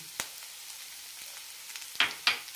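Capsicum, ginger, coconut and coriander leaves for a chutney sauté in a pan with a faint, low sizzle, broken by a few sharp spatula scrapes and taps near the end.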